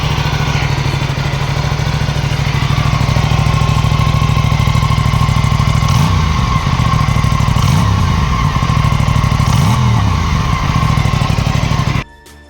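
An Aprilia Tuono 457 motorcycle sits at a close, steady idle, then gets three quick throttle blips a couple of seconds apart, each rising and dropping back before the engine cuts off abruptly at the end.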